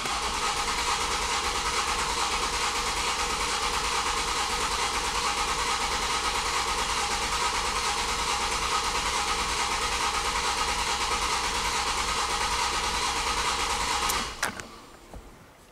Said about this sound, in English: crank the engine for 10 seconds